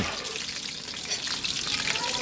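Steady, dense sizzling and crackling of chicken frying in hot oil, close and continuous with no talking.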